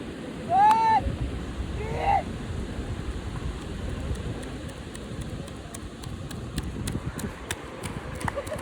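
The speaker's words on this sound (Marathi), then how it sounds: "शांत नाही दिसत आहे, पण आवाज इथपर्यंत येतो समुद्राचा." Sea waves at night on Shrivardhan beach, a continuous low rushing surf heard from a distance, with a brief tonal chirp near the start and faint ticking noises later.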